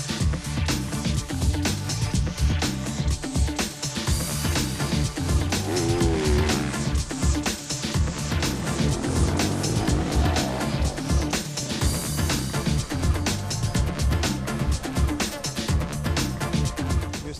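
Husqvarna rally motorcycles at the 2018 Dakar Rally start and race off, engines revving hard in loud dense bursts over a busy roaring background that continues throughout.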